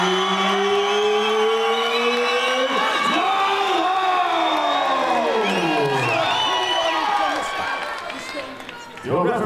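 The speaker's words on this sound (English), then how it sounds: "What a crowd reaction right there for Alfie Malone." A loud arena crowd at a junior boxing event roars and cheers for a 12-year-old boxer, a dense sustained wall of voices with rising whoops that carries through the whole stretch before easing at the end.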